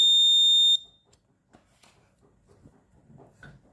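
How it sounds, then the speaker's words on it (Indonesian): A piezo buzzer on a ship-room monitoring system sounds when its LM35 temperature sensor reads above 27 degrees: one loud, steady, shrill tone lasting under a second, then cutting off abruptly, followed by faint handling and rustling noises. "buzzernya menyala"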